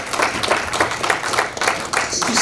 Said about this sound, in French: Donc je veux une bonne acclamation.